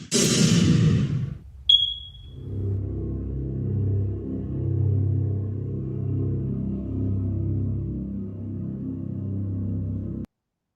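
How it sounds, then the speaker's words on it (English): A single short, sharp electronic beep from an alarm in a house rings out after a brief burst of noise, followed by a low, steady rumbling hum. "I'm starting to look around the house to find out where that fucking beep's coming from."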